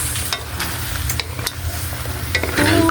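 Native chicken adobo with kalamansi is stirred in a hot pan, a steady close sizzle running under repeated scraping strokes of a spoon, with louder bubbling toward the end.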